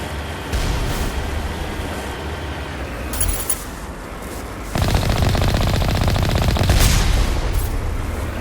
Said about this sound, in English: There are more turrets. Oh, I see the one that's firing at me now.